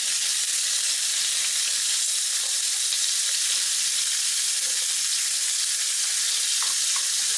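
Pork belly frying in a wok for yakisoba, a steady bright sizzle of hot oil that stays even and constant, close and moderately loud with no talking.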